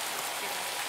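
Heavy rain pours down on a garden in a dense, even hiss of water, close and constant throughout with no speech.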